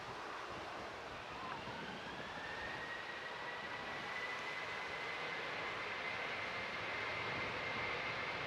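A SunExpress airliner at Manchester Airport, its engines a steady broad roar with a faint rising whine, continuous and fairly distant under wind noise throughout.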